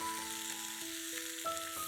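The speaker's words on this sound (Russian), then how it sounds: "Кусочки бекона выкладываем на горячую сковороду." Bacon sizzles steadily in a hot frying pan, a bright crackling hiss, while soft background music with sustained tones plays underneath.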